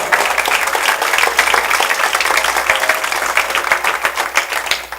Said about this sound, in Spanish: Dele fuerte el aplauso.